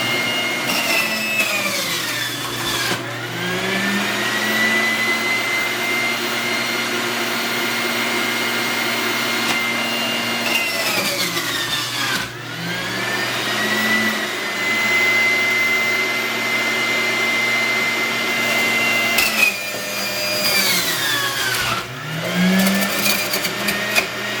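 A Breville home juicer runs steadily with a loud motor whine, its pitch dropping and recovering in repeated cycles as vegetables are pushed through the chute, with no talking.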